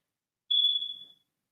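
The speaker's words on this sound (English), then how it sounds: "have a smoke detector that keeps beeping" A single high, thin electronic chirp from a smoke detector signalling a fault, sharp and clear for about half a second in an otherwise silent room.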